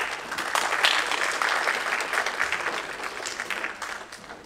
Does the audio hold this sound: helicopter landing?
no